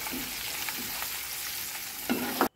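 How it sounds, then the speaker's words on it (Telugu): Curry leaves, red chillies and turmeric fry in a pan, with a steady close sizzle and occasional stirring scrapes that grow louder just before the end. "అలాగే కొంచెం కరివేపాకును వేసుకొని ఇవంతా చక్కగా ఫ్రై చేసుకోవాలి."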